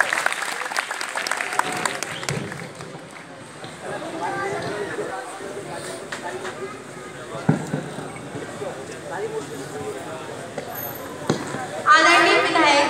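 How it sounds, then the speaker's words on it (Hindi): Audience at a Republic Day celebration clapping to welcome children onto the stage, scattered applause rising and falling with people talking throughout and a louder burst near the end. "एक बार जोरदार तालियों से बच्चों को आप स्वागत।"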